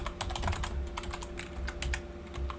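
Rapid, irregular keystrokes clatter on a computer keyboard while code is typed, a steady run of close clicks with no talk.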